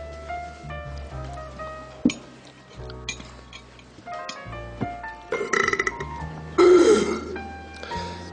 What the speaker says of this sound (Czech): Jakkoliv je říhnutí u stolu v některých kulturách považováno za projev dobrého zažití, u nás je to naprostá nepřístojnost.